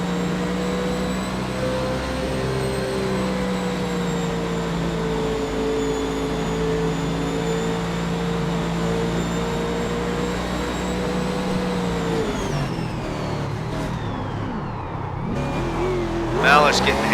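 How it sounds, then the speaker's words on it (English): A race car engine at Iowa Speedway, heard from onboard, holds a loud sustained drone through a wreck before dropping off near the end, where a brief sharp burst of noise follows. "Let's go on board with Jordan Malish in the 94 and ride through this wreck"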